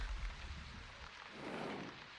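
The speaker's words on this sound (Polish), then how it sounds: "Deszcz niestety się już powoli kończy" Steady rain in the video game The Wandering Village, a soft continuous hiss of falling drops with a low rumbling undertone, even and unbroken throughout.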